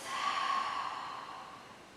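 A long, audible breath drawn and released during a Pilates shell stretch with palms facing up, a single soft airy exhale that fades over two seconds with no talking.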